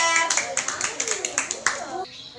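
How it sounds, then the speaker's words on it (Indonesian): Classroom clapping for a student during a primary science lesson: a short burst of quick, fairly close hand claps from a small group, with children's voices mixed in, ending abruptly. "Oke, tepuk tangan untuk Fajar."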